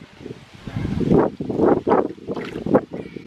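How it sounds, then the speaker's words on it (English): Gusty wind buffeting the microphone, with low rumbling bursts that rise and fall in several strong surges. "Sorry if it's windy, guys. It's got a little bit of a breeze out here"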